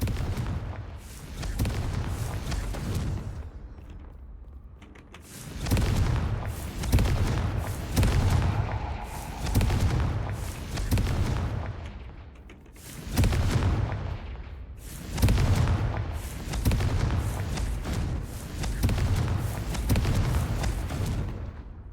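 Repeated booming explosions from the Confringo spell in a Harry Potter video game, a series of loud low blasts roughly every couple of seconds with rumbling tails, dense and continuous with no talking.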